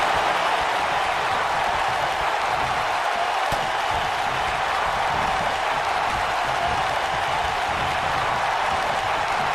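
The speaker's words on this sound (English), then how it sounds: "I don't remember the last time I heard a more passionate crowd than the one we have here tonight" A wrestling arena crowd roars continuously, a dense, even wash of cheering and applause with no single voice standing out.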